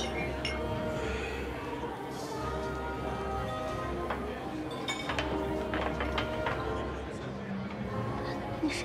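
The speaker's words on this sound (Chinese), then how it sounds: "为庆祝我正式成为雨果集团商务部许文女士的商业对手，干杯" Glasses clink in a celebratory toast at a gathering, several light chinks scattered under lively chatter and cheering voices.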